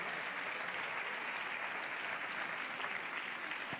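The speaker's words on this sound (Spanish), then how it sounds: "Fuerte aplauso para ella." An audience at a 2022 sports gala in Béjar applauds an award winner with a steady wash of clapping that holds at an even level from start to finish, heard from some distance with no voices.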